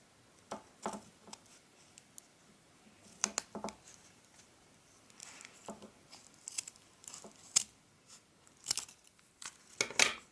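Scissors cut paper for a kirigami piece. The snips are quiet, crisp and irregular, some alone and some in quick clusters, with short pauses and light paper rustling in between.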